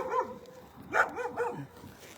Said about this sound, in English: you could hear the dogs